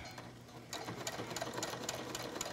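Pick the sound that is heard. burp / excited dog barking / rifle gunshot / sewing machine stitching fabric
sewing machine stitching fabric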